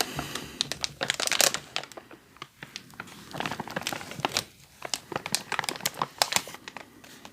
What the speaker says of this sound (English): So the first thing I'm going to show you is a little loud crinkly, so we'll get that done first. But it's this bag of toys.